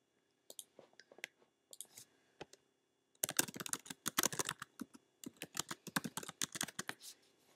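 Someone types on a computer keyboard close up, with a few scattered key taps and then rapid bursts of clicking keystrokes, all quiet and with no voices.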